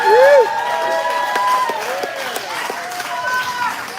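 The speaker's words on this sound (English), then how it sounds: "Come on, clap like it's gonna keep gas prices down." Audience applause and cheering at a live comedy show, moderate clapping under a voice speaking throughout, with a short whoop at the start.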